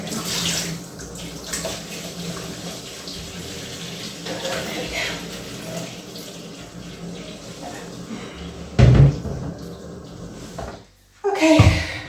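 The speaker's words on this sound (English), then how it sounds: "This just pours away all this dirty water." Dirty water draining away out of a bathroom sink during a cleaning job, a steady close washing rush with a few louder sloshes and a brief clatter near the end.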